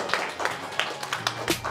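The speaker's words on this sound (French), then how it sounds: "Et vous pouvez applaudir le vainqueur" An audience applauds the winner of a competition with sparse, rhythmic clapping, a handful of distinct claps spaced evenly across a short burst.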